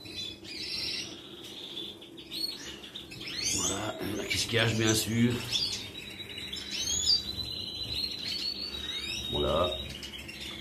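Caged goldfinches and canaries chirp and squawk in a busy aviary chorus, near and lively, while someone talks over the birds.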